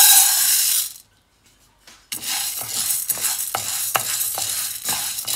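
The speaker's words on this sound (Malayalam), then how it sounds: "ഇനി ഇതൊക്കെ തന്നെ തന്നെ തന്നെ നമുക്ക് ബ്രൗൺ കളറായിട്ട് വറുത്തെടുക്കാം" Green gram dry-roasting in a dry pan on low heat is stirred steadily with a utensil, giving loud, close scraping and rattling. After a brief silence the stirring continues in rapid, repeated strokes.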